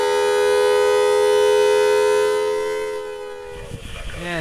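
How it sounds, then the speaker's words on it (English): A vintage civil defense siren wails with a loud, steady tone that holds for about three seconds before winding down and fading, with a brief rising sweep starting again at the end. "setting off the vintage civil defense siren"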